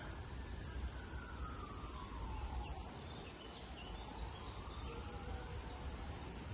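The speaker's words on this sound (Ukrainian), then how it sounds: "А чуєте сирени?" A distant siren wails in slow rising and falling sweeps over steady outdoor background noise, faint and continuous.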